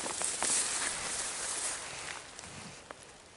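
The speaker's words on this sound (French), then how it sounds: "oh, il pleut." Rain falls at a retreat centre, a soft, even hiss that is steady and moderately close, with a few faint taps and a slight fade toward the end. No one speaks.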